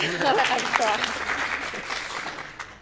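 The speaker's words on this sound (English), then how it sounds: "Round of applause." Small group applause at a rowing nutrition workshop, brief clapping mixed with voices and cheers from a close indoor crowd, fading over a few seconds.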